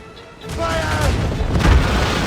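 Naval cannon fire during a ship battle in Assassin's Creed Rogue: a deep boom swells out of a dense, roaring battle din, with voices shouting over it.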